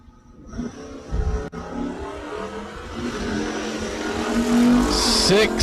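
A 1971 Dodge Demon and a U-Stock automatic Mustang launch side by side down a drag strip, engines roaring loud and close with squealing tires, the Demon chasing the Mustang as the revs climb steadily to the finish.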